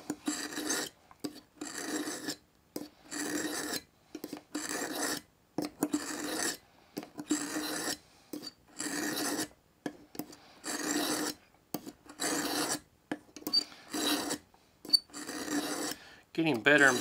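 Knife blade drawn across the ceramic side of a Smith's Hunt & Fish sharpener, a series of quiet raspy strokes about one per second with short pauses between, close up.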